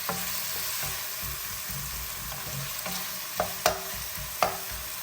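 Vegetables sautéing in oil or butter for burrito filling, a steady close sizzle with soft stirring scrapes and a few sharper utensil taps near the end.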